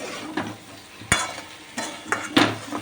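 Thick spice paste sizzles softly in a wok over a low flame while a utensil scrapes and stirs in several short strokes.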